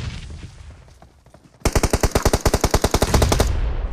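A rapid burst of automatic gunfire in the mobile shooter game BGMI: about twenty sharp, evenly spaced shots lasting roughly two seconds, loud and close, after a quieter lead-in of game ambience.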